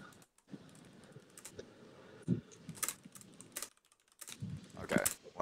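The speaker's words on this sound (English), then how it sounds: "I'm just typing something." Someone typing on a computer keyboard indoors, quiet irregular clusters of key clicks broken by short pauses, fairly close but low in level, with no talking.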